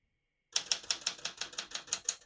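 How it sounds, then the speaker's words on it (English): Keys strike steadily on a 1981 Smith-Corona Classic 12 portable typewriter, about ten crisp, evenly spaced clacks beginning after a brief silence, close and clear with no voices. "all the keys type nice and none of them skip or stick"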